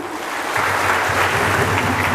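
Congregation applauding in a church service, a dense steady wash of clapping hands throughout with a low hum of voices underneath, moderately loud and close.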